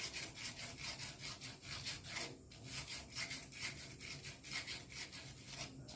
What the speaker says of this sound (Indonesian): Kita bersihkan dengan amplas.